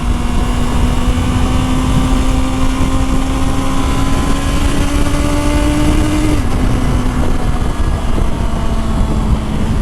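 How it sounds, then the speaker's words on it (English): Honda CBR650R motorcycle engine held at a loud, steady high-rpm drone, pitch climbing slowly before dropping sharply near the end as it hits a hard rev limiter, with heavy wind rumble throughout. "The rev limiter is quite hard."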